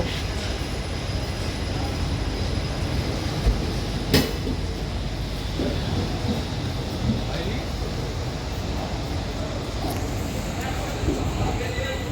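The Chakradharpur–Howrah train at Purulia station gives off a steady, heavy rumble with a couple of sharp metallic clanks. Voices talk underneath the train noise.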